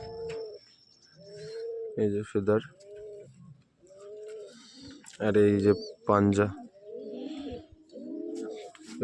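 Close, throaty cooing from a male pigeon of an old-line generation recurs in short rolling phrases, interleaved with someone talking nearby in loud bursts.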